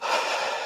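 A voice imitates labored breathing, one short, raspy, strained breath drawn close and alone.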